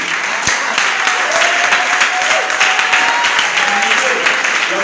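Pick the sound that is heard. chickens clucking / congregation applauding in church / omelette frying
congregation applauding in church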